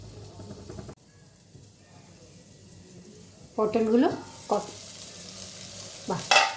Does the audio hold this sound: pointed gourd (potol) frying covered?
yes